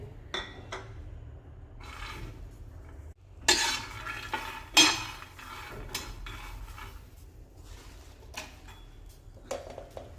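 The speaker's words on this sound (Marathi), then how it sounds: "इथे मी गॅसवरती तवा तापायला ठेवलेला आहे। त्यावर पहिले तुरीचे दाणे टाकून घ्यायचे आहे।" Pigeon pea grains dropped onto a hot griddle over a gas flame, heard as sparse close clicks, rattles and scraping taps with soft crackle in between, quiet overall and free of speech.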